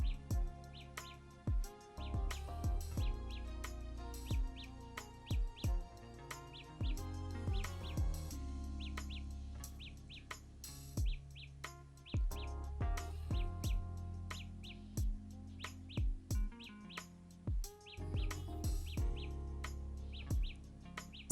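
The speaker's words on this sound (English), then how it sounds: "they start tweeting and sounding like birds whenever I use Find My Earbuds" Samsung Galaxy Buds Plus earbuds emit their find-me tone: a series of high, bird-like electronic chirps repeating in short bursts over a steady musical backdrop, loud and close.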